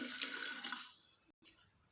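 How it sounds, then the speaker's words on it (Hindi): About a litre of water splashes and pours steadily into a container of wheat grains for about a second, then stops abruptly before a quieter trickle resumes. "लगभग 1 लीटर पानी डाल देंगे"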